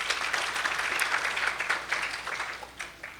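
A seated audience at a Saturday Sabha katha gathering claps for the storyteller, a moderately loud burst of applause that gradually thins out into a few scattered claps by the end.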